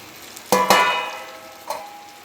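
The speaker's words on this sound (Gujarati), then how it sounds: "બધા મસાલો મિક્સ કરી નાખીને હલાવી નાખીએ" Spiny gourd curry cooking in oil with spices is stirred in a pan, two quick metallic clangs and a scrape over a soft sizzle, then a lighter knock.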